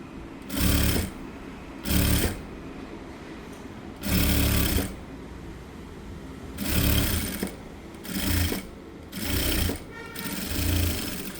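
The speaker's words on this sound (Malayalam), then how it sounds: "ഈ താഴ്ഭാഗത്ത് ഒരു സ്റ്റിച്ച് ഇട്ട് കൊടുക്കുകയാണ് കേട്ടോ. ഇങ്ങനെ കറക്റ്റായിട്ട് ഒരു സ്റ്റിച്ച് ഇട്ട് കൊടുക്കുക ചെയ്യണത്." Sewing machine stitching the lower hem of a girl's shirt, running in seven separate bursts of about a second each, separated by short pauses, close and fairly loud with no talking.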